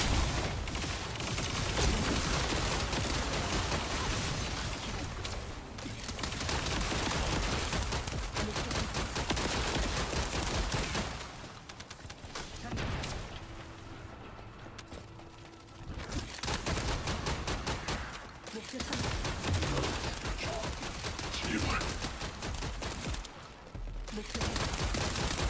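Rifle fire in The First Descendant rattles in long, heavy volleys, with dense repeated shots and mechanical clatter broken by a few short quieter pauses.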